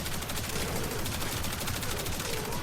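Sustained rapid gunfire from a weapon in the video game Warframe, a dense continuous burst of shots filling the whole stretch with no talking.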